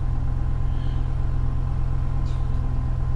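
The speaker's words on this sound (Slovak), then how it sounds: "Ale nedymí, akurát má tam nejaké tie zvuky, neviem či to je kvôli tomu, že vynecháva jeden valec, desiatka." A BMW M5 bought at auction idles with a misfire on cylinder ten, a loud, steady low rumble with a slightly uneven pulse that continues throughout, with no talking.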